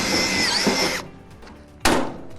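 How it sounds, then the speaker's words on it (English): A power drill whirs into metal on a steel garden shed for about a second, falls quiet, then starts up again sharply. "So I'll just mark it with the drill"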